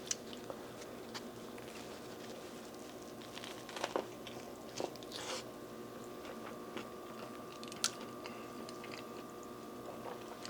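Someone biting and chewing a messy seafood po boy hot dog with diced sausage: soft, wet, irregular chewing and squishy bites over a steady background hum, with a few sharper crunches.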